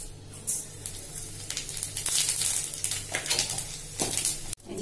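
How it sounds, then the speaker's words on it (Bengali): Cumin seeds and green chilli paste hit hot oil for tempering, a steady crackling sizzle with clinks of a pan and utensils nearby in a home kitchen. "তেলে দেব জিরে ফোড়নে"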